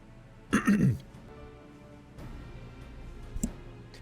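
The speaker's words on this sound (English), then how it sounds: "I just have, again, not feeling super great and have to cough every so often." A person who is unwell clears their throat loudly once, then after a pause coughs briefly and lightly, close to the microphone in an otherwise quiet room.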